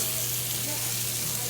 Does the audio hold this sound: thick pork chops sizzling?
yes